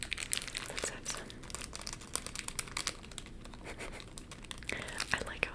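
Plastic candy bag crinkling in close, irregular rustles and crackles throughout, with soft talk or whispering underneath.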